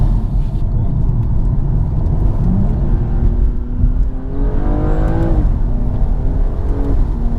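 A 2016 BMW M235i's six-cylinder engine howls under acceleration, a loud, close drone with rising harmonic tones through the gears, heard from inside the car.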